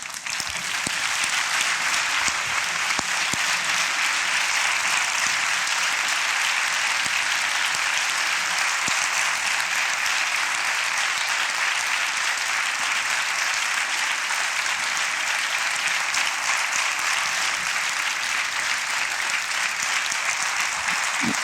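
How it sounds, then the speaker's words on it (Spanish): A standing audience in a theatre applauds steadily and loudly for the scientists, a dense, even wash of clapping that holds without a break from start to finish. "os propongo que nos sumamos al aplauso de las personas que nos han salvado la vida"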